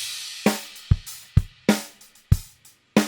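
Drum mix with subtle reverb, a handful of sharp kick and snare hits spaced in a slow, uneven pattern, each followed by a short ambient tail, loud and clear with no voices.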